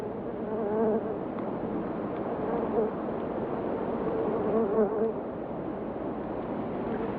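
Bumblebee buzzing steadily and close by, a continuous low drone with slight pitch wavers, heard alone for several seconds.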